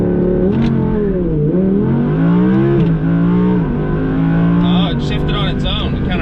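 An Audi R8 V10 Plus accelerates hard from a launch-control start with traction control off, its engine loud and close inside the cabin, the pitch rising in sweeps and dropping sharply at each gearshift.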